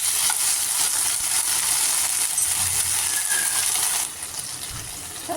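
Chilli chapathi being stir-fried with capsicum and tomato ketchup, a loud steady sizzle with stirring scrapes that drops away near the end, with no voices.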